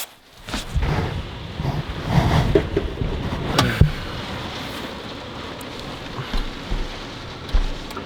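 Heavy rain and violent wind batter a camper van in Iceland: a dense, steady roar of downpour with irregular gusting surges and occasional dull thumps against the body, close and enveloping, with no talk.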